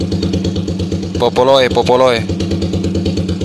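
Modified Suzuki Satria motorcycle engine idling with a steady pulsing thrum, briefly revved once in a rising and falling burst before settling back to idle, with someone talking over it.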